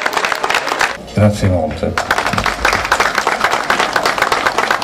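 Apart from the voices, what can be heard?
audience applause for the first prize winner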